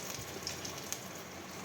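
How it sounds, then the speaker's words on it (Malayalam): Heavy rain falls outside as a steady, even hiss, with scattered drops ticking on a nearby surface and no voices. "മഴയാ, പുറത്ത് നല്ല മഴ പെയ്യുന്നു"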